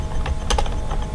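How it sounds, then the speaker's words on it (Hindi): A short burst of computer keyboard typing during entry of an online job application form, a few quick close key clicks over low background hum. "जैसे मैं यहाँ टाइप कर देता हूँ बिहार स्कूल"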